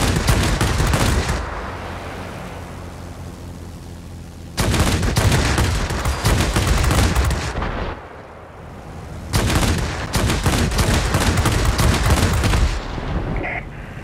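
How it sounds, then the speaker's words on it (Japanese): Machine-gun bursts from a Hayate, a Tier 7 Imperial Japanese Army fighter, in the World of Warplanes air-combat game: three long, loud, dense rattling volleys separated by brief quieter gaps filled with engine drone. "この射撃音もアドレナリンで過ぎてやばいですね"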